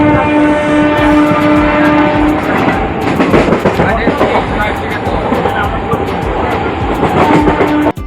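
A local train rumbles steadily along the rails between Mourigram and Kolaghat, India, with rhythmic clacking and a constant loud roar, heard from inside the carriage.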